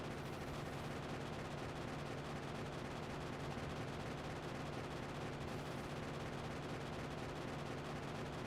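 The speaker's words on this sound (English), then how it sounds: "Oh, I love the gun sounds. They're so good after they updated them." Turret and gun fire mowing down biters in Factorio 1.0: a relentless, loud stream of rapid machine-gun shots running unbroken throughout, with no voices over it.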